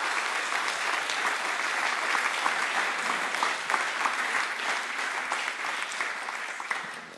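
An audience at a professional networking conference in Alsace claps steadily and loudly, a dense, sustained applause filling the room for several seconds before easing slightly at the end.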